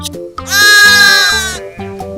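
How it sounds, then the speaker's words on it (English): A toy animal-sound puzzle board plays a loud, near sheep bleat lasting about a second, framed by short voiced sounds from a person before and after. "Which animal sounds baba? Sheep."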